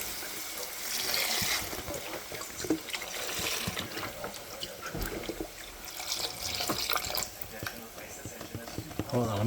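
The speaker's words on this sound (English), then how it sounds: "You're gonna add the broth. Add it in there." Broth pours into a pot of Toscana soup, a soft splashing liquid trickle that comes and goes over several seconds, with a person talking and breathing nearby.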